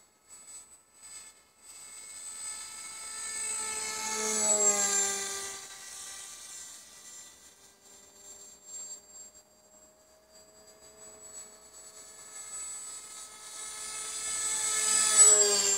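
A small depron pusher model airplane's electric motor whines as it flies past twice, rising to a loud buzz with a pitch sweep as it passes close, then fading and returning. No voices are heard.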